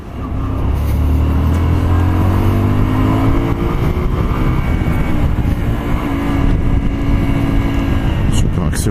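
A Honda Varadero 125 motorcycle accelerates hard, its engine tone climbing steadily under loud, continuous wind rush, heard close from the rider's position; a voice may be faintly mixed in.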